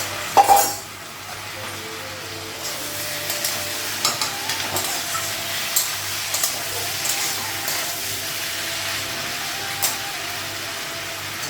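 Fish fries in a pan with a low, continuous sizzle, broken by an early clank and scattered light scrapes and taps of stirring.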